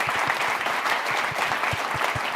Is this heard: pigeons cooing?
no